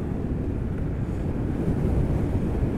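An all-terrain electric skateboard at full throttle gives a steady, loud rush of wind buffeting and low wheel rumble that runs unbroken for the whole stretch.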